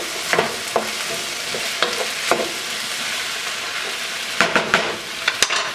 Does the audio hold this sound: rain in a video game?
no